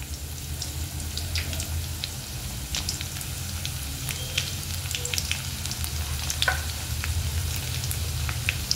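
Garlic and ginger frying over a full, high flame for fried rice: a continuous close sizzle and crackle with scattered pops and light stirring scrapes, steady throughout with no voices.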